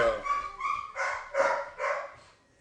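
A dog barks and yips in a quick series of close, moderately loud calls, some sounding whiny, with no talking.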